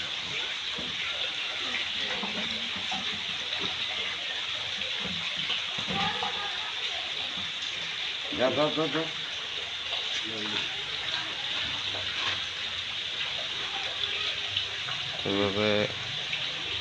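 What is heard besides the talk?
salt water poured into a bucket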